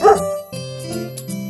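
A lazy farm dog in a French nursery-rhyme cartoon barks once sharply, then gives a drawn-out whining, whimpering tone over a musical backing.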